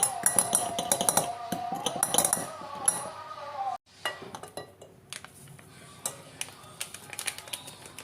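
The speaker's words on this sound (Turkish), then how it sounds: "Ve yine aynı şekilde çırpıyorum." A whisk beats a batter of oil and semolina in a bowl, giving rapid clinking strokes against the sides. The strokes stop briefly, then resume as lighter, scattered taps, close and fairly crisp, with no talking.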